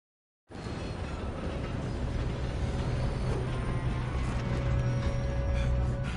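A train rolling along in the Western video game Red Dead Redemption 2 starts abruptly and holds steady, with a loud continuous rumble, metallic creaks and rattling wheels, and a faint whistle-like tone partway through. There is no speech.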